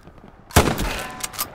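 A single loud gunshot cracks out in the Hell Let Loose World War II shooter, a sharp close blast followed by a rolling echo tail, with fainter distant shots popping near the end.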